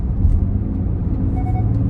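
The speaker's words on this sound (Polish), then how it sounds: "sprawdźmy czy wtedy zacznie się ciszej zachowywać wydech" A Genesis GV80 diesel in comfort mode, its exhaust a steady low rumble heard from inside the car, moderately loud and even, with no talk.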